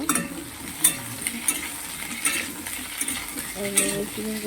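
Potatoes seasoned with salt and turmeric fry in a pan for a fish-head curry, a low sizzle broken by clinking stirs of a metal utensil, close and fairly loud.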